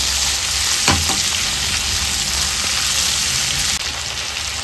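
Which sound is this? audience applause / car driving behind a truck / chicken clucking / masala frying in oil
masala frying in oil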